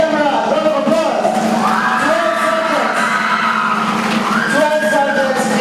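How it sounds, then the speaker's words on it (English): A crowd at a 2021 CSEC graduation ceremony applauds and cheers the valedictorian, with whoops and shouting voices mixed into the continuous noise of the hall. "Round of applause"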